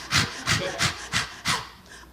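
A comedian imitates the breathing of natural childbirth labor in front of a theater audience: five rhythmic, breathy pants in a steady pulse, close and fairly soft.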